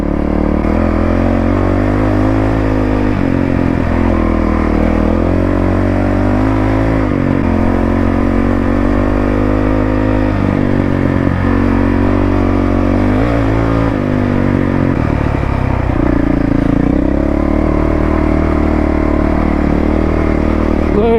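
Honda CRF450L dirt bike engine riding off-road over loose rocky ground, a loud, steady close-up drone with constant revving swells and throttle changes throughout.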